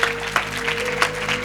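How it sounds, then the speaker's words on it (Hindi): Congregation applauding during a church sermon, a steady wash of clapping lasting the whole moment with a couple of sharper bursts, over a faint steady hum. "इस कलाम के लिए जोरदार तालियां बजाइएगा।"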